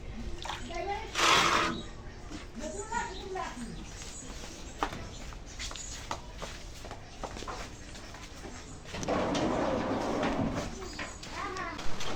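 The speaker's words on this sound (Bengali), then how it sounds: "এই যে দেখতে পাচ্ছেন আমার গরু পানি খাচ্ছে" A cow drinks water from a container at home, with wet slurping and splashing in two louder stretches and quieter sucking between, while voices, including a child's, talk nearby.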